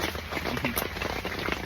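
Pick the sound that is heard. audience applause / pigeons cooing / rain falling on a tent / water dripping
rain falling on a tent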